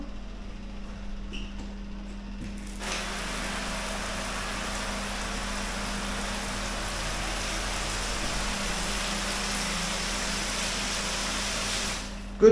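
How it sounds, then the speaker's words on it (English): A power shower runs in a bathroom at the Argyll Hotel in Glasgow, starting after a quiet moment with a steady, even hiss of spray that lasts about nine seconds, then cuts off with a click. No voices are heard. "Good power shower."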